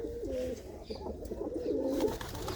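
Pigeons kept for hobby flying coo in soft, repeated throaty phrases, close by and fairly quiet, with no voices over them.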